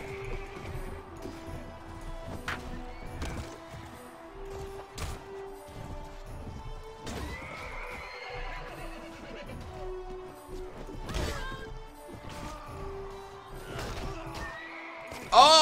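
Horses neighing and hooves clip-clopping in Mount & Blade Warband during a siege, with whinnies rising among sharp crashes and impacts, a loud burst at the end, and a voice talking intermittently.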